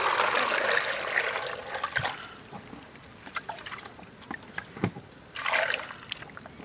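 Water is poured into cocoyam fufu in a village kitchen, giving a rushing splash that fades, then scattered drips and light knocks, and a second short pour near the end.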